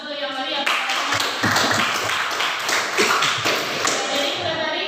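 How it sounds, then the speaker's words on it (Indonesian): Applause from a classroom audience during an Indonesian teaching practice exam: a dense, steady wash of many hands clapping at close range that fills the whole stretch without pause. "berikan aplaus dulu yang meriah"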